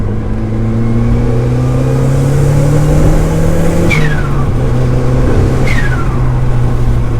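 A turbocharged Mazda MX-5 engine pulls hard under acceleration, a loud steady drone climbing in pitch with two sharp gear shifts, heard from inside the car with no talking.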